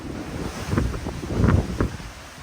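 Rough seas and gusting wind buffet the open deck of the Royal Caribbean cruise ship Odyssey of the Seas, with broadband wind rush and low swells of surging water rising and falling in a few loose pulses, close and steady, with no voices.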